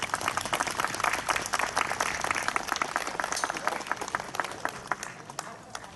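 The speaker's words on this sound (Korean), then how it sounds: "우리 성도님들께서는 힘차게 박수해 주시기 바라겠습니다" Hearty applause from a Korean church congregation at the ribbon cutting opening a Ganghwa mission center, a dense crowd of clapping hands with sharp individual claps standing out, tapering slightly toward the end.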